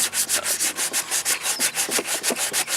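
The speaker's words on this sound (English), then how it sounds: "Now we're on to the hand sanding in some of these smaller areas." Steady back-and-forth hand sanding of a car bumper, a rhythmic scratchy rubbing with even strokes about six per second, close up and alone.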